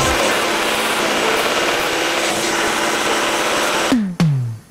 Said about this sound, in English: Now we can grind it.